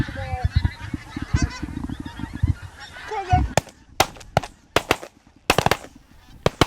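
Geese honk in flight during a goose shoot, a busy chorus of calls over the first half, followed by a string of sharp, loud shotgun blasts in quick bursts as the birds pass over.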